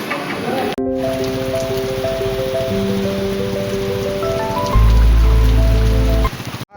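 Heavy rain falls in a village in Mansa, Gujarat, as a loud, steady downpour close by, with sustained tones ringing over it and a deeper rush near the end.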